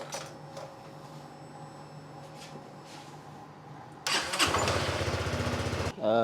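A Modenas Elegan 250 motorcycle, just fitted with a new spark plug, cranks after a few faint clicks, catches with a loud rhythmic chugging that runs for about two seconds, then cuts off abruptly.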